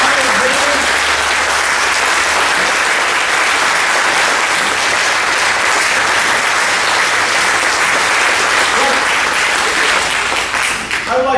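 Sustained, loud audience applause fills a large room as a crowd stands to honor servicemen, dense steady clapping continuing without a break.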